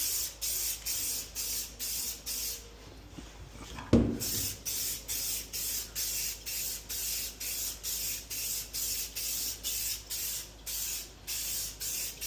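Shine coating sprayed onto a repaired porcelain tub in short, rhythmic hissing bursts, about a dozen even pulses with a brief thump near the middle, close and clear.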